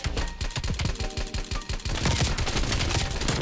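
A Milano submachine gun fires in the video game Black Ops Cold War, a loud continuous rapid burst with tightly spaced close shots and no talking.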